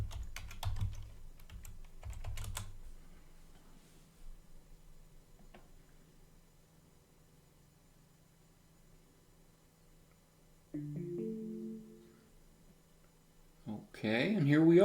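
Quick keystrokes on a computer keyboard entering a password at a Linux login screen, two short bursts of clicks with quiet gaps, faint and close, followed by chimes.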